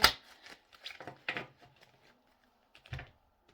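Tarot cards are shuffled with quick papery riffles and soft card slaps in short bursts, close and fairly quiet, with a sharper snap near the end; no talking.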